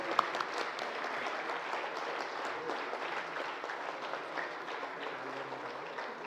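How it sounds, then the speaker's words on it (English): Warm, sustained applause from an audience at a foundation day celebration honouring a chairman's 95th birthday, steady dense clapping throughout at moderate level with faint crowd murmur underneath. "We now invite everyone to join in extending a warm round of applause to our beloved chairman."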